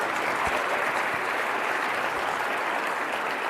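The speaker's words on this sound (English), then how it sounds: "please give our panelists a warm round of applause" An audience at a corporate keynote conference applauds the panelists, a dense, steady wash of clapping from a large crowd that holds at an even level throughout.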